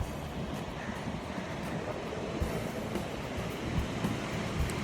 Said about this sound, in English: Now we have reached Talpona Beach, South Goa again